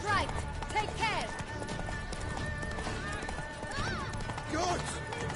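Horse hooves clip-clopping at a quick gallop in The Witcher 3: Wild Hunt, a steady rhythmic pounding under background music, with a neigh and people talking over the ride.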